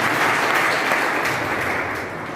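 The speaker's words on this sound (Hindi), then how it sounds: "मैं चाहूंगा संजीव सर इस संस्था के जो संस्थापक है उनके लिए पहले जोरदार तालियां बजाएं।" A large audience at a wellness foundation gathering in India applauds the organisation's founder with loud, dense, continuous clapping from many hands that fades slightly near the end.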